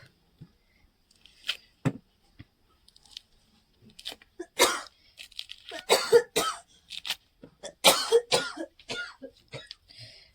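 Repeated coughs, some short and sharp, others in harsh clusters, close to the microphone with quiet gaps between them.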